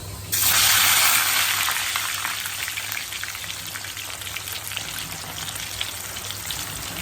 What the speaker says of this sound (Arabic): ما تخافيش وانتوا بتحطوها في الزيت